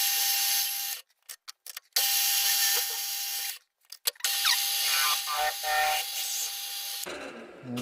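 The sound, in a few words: drilling a centre-popped boss for live steam model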